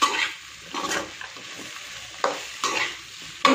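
Okra frying with onions in a pan: a low, constant sizzle broken by several louder bursts of scraping as a spatula stirs the pieces.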